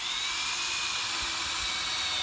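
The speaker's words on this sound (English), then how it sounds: "I'll continue drilling all of my other holes that I need." A handheld power drill bores a hole down toward sand, giving a steady, loud, high-pitched whine with a buzzing edge that holds unbroken throughout, with no voices.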